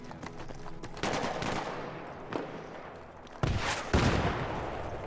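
Gunfire in an online 5v5 shooter match on a map with rooftops, bursts of shots crackling at varied distances with sharp loud volleys and quieter trailing reports.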